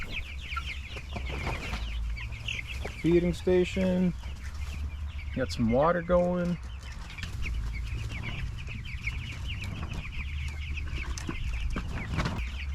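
Young meat chickens, 23 days old, cluck and peep inside a small field shelter with a feeding station and water, scattered close calls in short bursts while someone talks over them.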